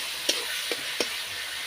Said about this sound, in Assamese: বিলাহীটো ধুনীয়াকৈ গলি আহিছে আৰু মছলা তেল এৰালৈকে মই ভাজি ল'ম।